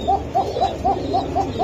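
Pigeons kept in a cage for sale coo in a steady repeating rhythm, about seven soft, rounded calls in under two seconds, close by over a low background hum.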